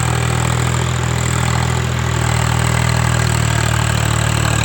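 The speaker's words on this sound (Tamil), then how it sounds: "அந்த காட்டில் நம்ம இப்போ ரொட்டேட்டர் ஓடிட்டுருக்கு" A tractor-mounted rotavator works a field, its engine holding a steady, loud, unbroken drone with a deep low rumble from start to finish and no voices.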